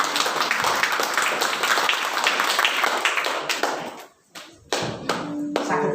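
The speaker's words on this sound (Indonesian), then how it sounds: "Berikan tepuk tangan buat Tuhan." A congregation claps during a morning church service, brisk dense hand claps near and loud that thin out and stop briefly before scattered clapping resumes, with a faint sustained tone at the end.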